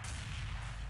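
A single gunshot in Counter-Strike 1.6, a short broadband burst with a heavy low-end thump, heard over steady in-game background noise.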